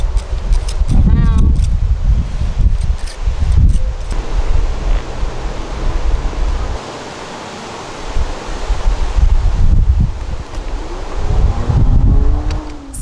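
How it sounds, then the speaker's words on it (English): Strong gusting wind outdoors buffets the microphone with heavy roaring rushes that ease briefly midway, while a person talks intermittently over it. "See, I told y'all this wind was so disrespectful."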